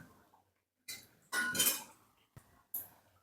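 Several sharp metallic and ceramic clinks as a dish is set as a lid over a pan of pomfret fish cooking with mustard, in short separate knocks with quiet gaps between.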